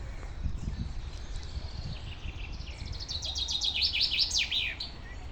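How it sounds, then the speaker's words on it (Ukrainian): Bird singing by a lake, a series of bright rapid chirps and trills growing louder toward the end over soft rustling and low outdoor noise. "Тут пташечка по заказу. Не буде співати? Ой, як співає."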